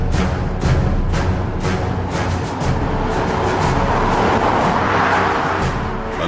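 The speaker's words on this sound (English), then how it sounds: "A Mercedes SL and a BMW 650." A Mercedes SL and a BMW 650 drive past in close succession, engines and tyre roar loud and steady with a swelling rush, no talking heard.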